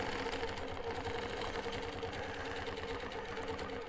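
Rapid, even mechanical chatter of a longarm quilting machine stitching slowly along a ruler, a continuous motor hum with a fast needle rhythm, close and steady throughout.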